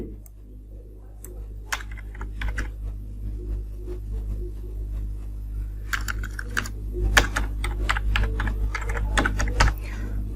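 Computer keyboard typing of a phone number in irregular bursts of clicky keystrokes, close and clear, sparse at first and quickening later, with a steady low hum underneath.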